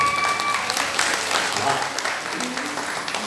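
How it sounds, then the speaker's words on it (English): Audience applause at a river safari show, a crowd clapping densely and steadily with a few faint voices mixed in beneath the claps. "how about all of you give me a big round of applause?"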